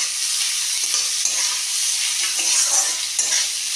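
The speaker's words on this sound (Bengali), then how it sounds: "দিয়ে এবার এটাকে ভালো করে নেড়ে চেড়ে একটু ভেজে নেব" Onion with salt fries in a pan and is stirred, giving a loud, steady sizzle with occasional scraping strokes of the spoon, close up.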